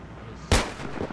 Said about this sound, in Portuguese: O tanque tá atirando em mim, mano.